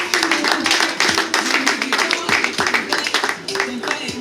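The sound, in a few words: applause at a wedding ceremony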